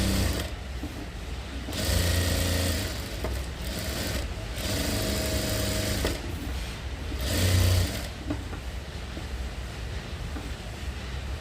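A sewing machine stitches the lining of a sleeveless blouse in a tailoring session, running in steady bursts with brief pauses between stretches of stitching, close and fairly loud.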